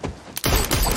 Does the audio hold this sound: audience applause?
no